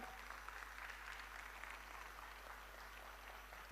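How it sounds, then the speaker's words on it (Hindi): An audience at a motivational speech event gives a standing ovation, a steady, dense wash of clapping that holds evenly from start to finish at moderate distance. "इनके लिए जोरदार खड़े होकर के जोरदार तालियां"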